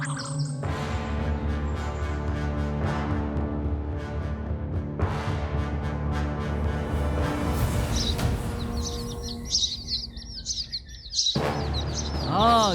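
Cartoon birds chirp and tweet over a busy music-like bed throughout, with brighter high calls clustering toward the end of the stretch; no one speaks.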